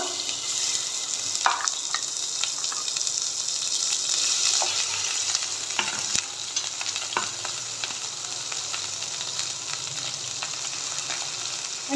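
A steady, loud sizzle of ground masala paste frying in a hot pan over medium-low flame for paneer masala, with occasional clicks and scrapes of stirring throughout.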